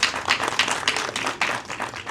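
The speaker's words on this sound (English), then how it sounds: "everyone give a round of applause for the moonfish" Clapping from an audience at the Turtle Talk with Crush show at Disney California Adventure, a brief ripple of applause with uneven claps for about two seconds, moderately loud and close.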